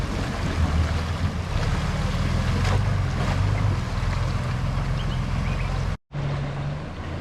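A car pushes through a deep, flooded river crossing on the Cape York Telegraph Track, with a continuous loud rush of splashing water and engine rumble close by, cut by a brief dropout near the end.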